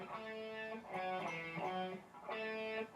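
An electric guitar plays a distorted riff from a song, moving through a short sequence of notes and bends at moderate volume.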